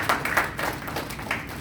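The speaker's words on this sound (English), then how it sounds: "A clap, big clap" An audience at a social work policy event claps in several brief irregular bursts, close and moderately loud, with little talk.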